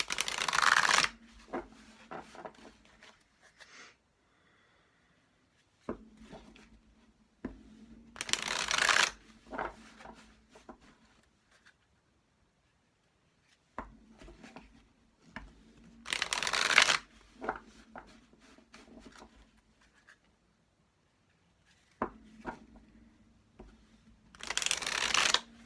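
Oracle cards being shuffled in clustered bursts of riffling and flicking, separated by quiet gaps, close to the listener with no talking.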